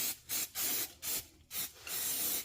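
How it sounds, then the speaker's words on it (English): Brake cleaner sprays onto the front rotors and pads of a 2020-or-later Toyota Supra MK5 in several sharp, loud hissing bursts, ending with one longer continuous spray. "We're just gonna give a good clean, brake cleans on this."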